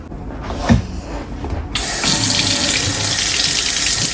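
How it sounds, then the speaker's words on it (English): Water runs steadily from a kitchen faucet fitted with a filtration system, starting abruptly after a few soft handling knocks and then pouring as a loud, continuous hiss close to the microphone. "I do have a filtration system in my faucet, so I'll be using that water"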